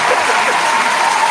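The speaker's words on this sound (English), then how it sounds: "Round of applause for family." A short burst of crowd applause, loud and close, with a voice faintly present underneath the steady clapping.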